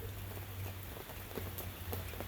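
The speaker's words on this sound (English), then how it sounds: "we got some more April showers going in here" An April rain shower falls steadily outdoors near a yard, a continuous hiss with scattered drops that tick and patter faintly throughout.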